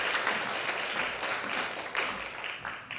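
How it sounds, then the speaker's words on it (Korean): A church congregation at a Sunday service applauds to welcome a pastor coming up to preach, with steady, fairly distant clapping and no talk. "우리 박수로 환영하겠습니다."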